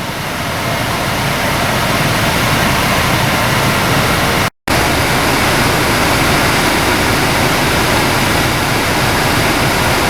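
Honda Civic air conditioning running on high with recirculation, blower fan and compressor producing a loud, steady broadband rush close by, broken only by one brief dropout midway.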